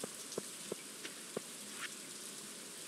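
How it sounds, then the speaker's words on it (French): Rain falls steadily in the farming game Stardew Valley, a soft even hiss of drops on the ground, with a few faint isolated taps punctuating the quiet wash and no talk. "Ah, il pleut encore."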